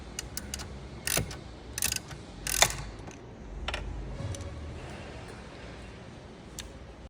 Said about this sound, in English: Using a 4mm Allen socket, you can reach in from the back and remove your bolts.